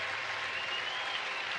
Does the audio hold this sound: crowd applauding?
yes